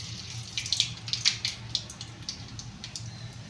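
Mustard seeds sizzle and pop in hot oil in a pan, a steady close hiss broken by bright crackling spits, under a low hum, with no talking.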